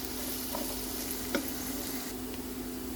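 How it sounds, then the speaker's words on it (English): Onion frying in olive oil with a steady, close sizzle throughout and a single brief clink of a stirring utensil partway through. "And add a little bit of olive oil. Let's fry our onion."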